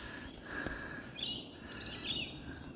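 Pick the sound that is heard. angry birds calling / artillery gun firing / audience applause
angry birds calling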